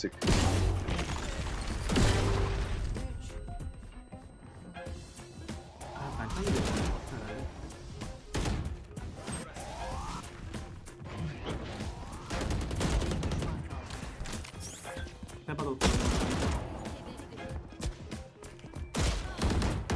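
Rapid gunfire bursts and scattered single shots ring out through a Valorant match, loud and near, with people talking over the fight between volleys.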